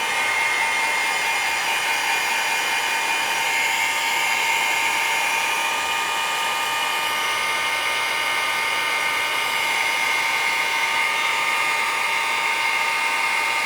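A heat gun blows a continuous, loud, whirring hiss at close range while drying texture paste for art journaling, holding steady throughout with no talking.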